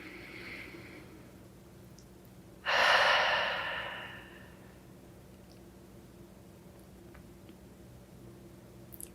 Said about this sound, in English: Becoming aware of your breath as it is,